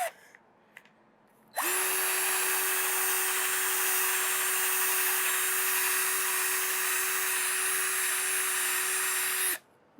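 A padauk wood bowl spins on a lathe while 80-grit sandpaper works it. A steady motor whine with hissing abrasion starts abruptly, runs about eight seconds, then cuts off.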